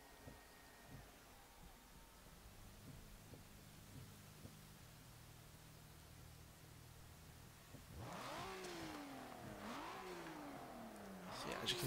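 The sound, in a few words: car engine revving in a video game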